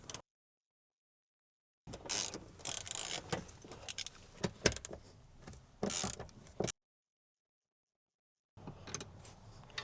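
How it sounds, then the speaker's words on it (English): A Torx bit ratcheting out the front seat bolts inside a Porsche 911 or Cayman cabin, heard as close mechanical clicking and creaking in two separate bursts with silent gaps between them. "Then with your E12 Torx bit, remove the two front seat bolts."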